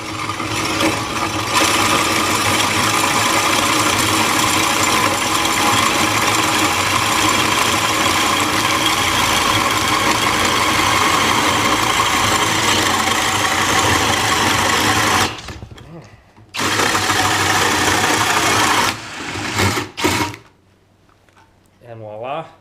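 A drill drives a Spyder carbide hole saw through a workpiece, grinding loudly and steadily for about fifteen seconds, then stopping and restarting in short bursts before falling quiet.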